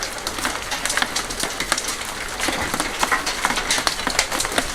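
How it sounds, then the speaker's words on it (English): Hailstones fall steadily onto an outdoor courtyard, a dense rattling patter of sharp ticks and taps that stays fairly loud and constant throughout. "we've got big hailstones"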